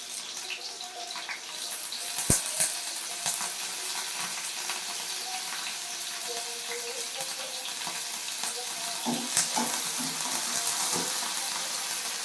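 Curry leaves frying in hot oil, a dense, steady hissing sizzle heard close up, with a few sharp pops and spatters and no talk over it.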